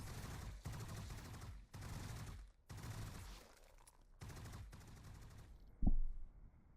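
Machine gun towers fire in the video game MarZ Tactical Base Defense, sustained rattling bursts in several long volleys separated by short gaps, ending with a single heavier boom.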